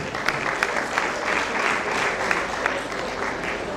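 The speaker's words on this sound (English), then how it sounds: "You can clap if you want to." Audience clapping at a dietitians' national conference in Nigeria, a steady wash of applause from a hall crowd with a few sharper individual claps standing out, sustained evenly throughout.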